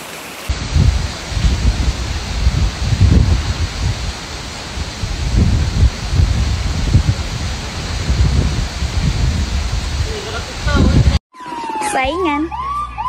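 Heavy rain falling outside a shop front, a steady broad wash of downpour with low rumbling swells, ending abruptly in a brief snippet of other sounds.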